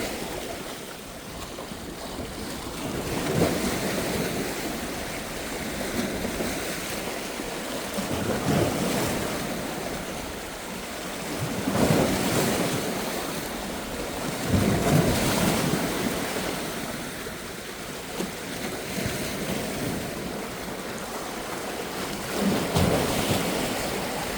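Waves roll onto the Black Sea shore at Fontanka at dawn amid gusting wind, each surge swelling and fading every few seconds in a continuous, fairly loud roar with no voices.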